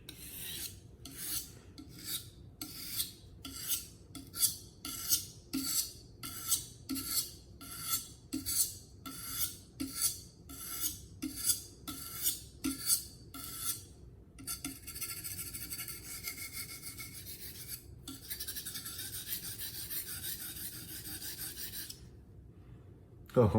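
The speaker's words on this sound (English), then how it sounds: "stone for final polishing part for the blade, for the razor's edge, for the blade's edge" A traditional filet knife blade drawn across a polishing stone in slow, even strokes, a rhythmic rasping scrape repeated about twenty times, then a longer continuous grinding rub, close and clear with no talking.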